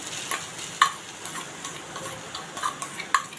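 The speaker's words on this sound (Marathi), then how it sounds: "इथे आपल्याला खोबरं हलकं परतून घ्यायचं आहे" Grated coconut roasts in melted ghee in a pan on the stove, stirred with a quiet, steady sizzle and a few light ticks of a spoon against the metal, with no talking.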